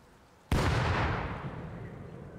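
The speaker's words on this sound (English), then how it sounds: "Was that you shooting?" A single loud gunshot blast in Rust, a survival video game, hitting sharply and then rolling off in a long echoing boom that fades slowly over about two seconds.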